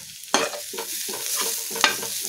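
Baby potatoes fry in a pan, a close, steady sizzle broken by a couple of sharp scraping stirs and a rhythmic shuffling as they are tossed.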